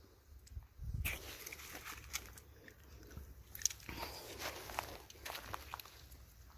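A small dog bites and chews a Sun Gold cherry tomato in a home garden, with close, wet crunching and smacking in irregular bursts, plus a few shuffling steps and rustles.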